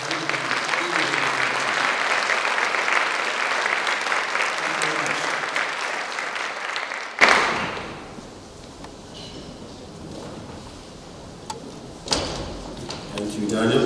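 An audience at a first annual congress applauds in a steady, loud wash of clapping for about seven seconds, then it drops to a quiet room with a few scattered knocks and a brief rise of noise near the end.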